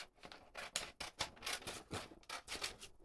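Quick, close snips of scissors cutting through sublimation paper wrapped around a mug, a rapid series of crisp crunching cuts in steady rhythm, quiet and alone.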